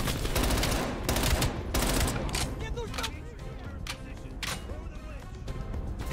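Gunfire in Call of Duty: Black Ops Cold War, with rapid bursts of automatic shots and sharp cracks packed together throughout, loud and close, while a voice talks over the shooting.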